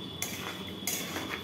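Street-style potato and pea ghugni is stirred in a pan, giving two or three close metal spoon scrapes and light clinks over a faint, low sizzle.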